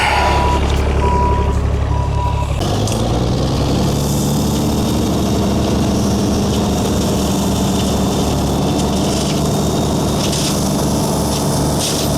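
A gravel delivery truck backs up on a rural driveway under construction, its steady rhythmic reversing beeps sounding over a loud, continuous diesel engine rumble, with a sharp air-brake hiss near the start.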